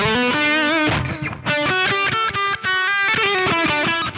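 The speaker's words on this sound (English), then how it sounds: "say you want to throw some echo on that, all you got to do is just touch it a little bit and it'll come in" Electric guitar played through a Yamaha THR amp with an echo effect: a run of distorted, sustained chords and single notes with repeating delay tails, loud and close with no talking.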